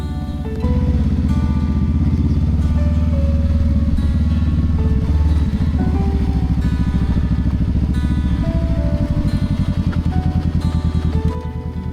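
A Honda Rebel 500 beginner motorcycle runs as it is ridden, its engine a loud, steady, close throbbing drone with shifting tones for about eleven seconds, and no talk over it.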